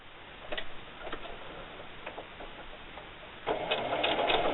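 A sewing machine sews a holiday gift bag: soft scattered ticks and taps at first, then a sustained close stitching run for the last second or so.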